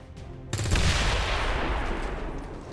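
A single loud rifle shot in XCOM 2 fires at a claymore mine, followed by a sustained roaring blast tail that slowly fades, with no talking over it.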